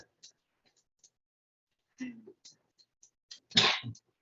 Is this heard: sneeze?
yes